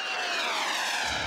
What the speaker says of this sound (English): I was truly astonished by that fighter jet.